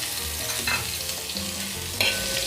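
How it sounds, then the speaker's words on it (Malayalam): Lengthwise-sliced onions tossed into hot oil with cashews for chicken kurma, giving a dense, close sizzle with a couple of brief stirring scrapes. "ഇതിലേക്ക് ഞാൻ സബോള നീളത്തിലരിഞ്ഞത് ചേർക്കണം."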